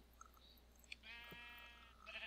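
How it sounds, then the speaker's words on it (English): Sheep bleating in the video game Minecraft, a few short bleats with a clear drawn-out bleat in the middle, moderately near against quiet game ambience. "Hey sheep, bye sheep."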